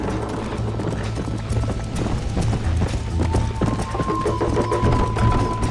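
Rapid rhythmic clip-clop of a horse galloping in the video game Red Dead Redemption, loud and close, continuing steadily throughout with a faint tone rising in the background.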